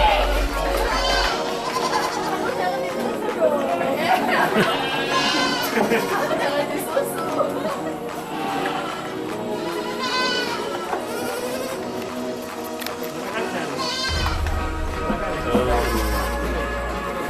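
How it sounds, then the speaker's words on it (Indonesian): Several Saanen dairy goats bleat repeatedly amid a busy background of chatter and farmyard noise at a goat farm in Karangpadang, Indonesia, their wavering calls rising and falling throughout. "Kambing Saanen di Karangpadang punya Haji Abdillah Ais."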